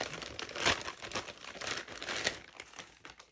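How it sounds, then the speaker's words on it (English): Thin plastic crinkles and rustles up close in a string of quick, crackly bursts, one louder crunch near the start, then lighter handling noises. "But this comes in a plastic bag."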